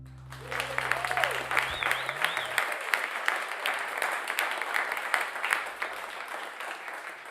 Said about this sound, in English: Can we just keep just a little bit of extra round of applause going for Alan Barnowski?